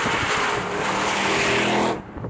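A supercharged Nissan Patrol engine roars loud and close with a dense, rushing drone that holds steady, then abruptly drops away near the end, leaving quiet.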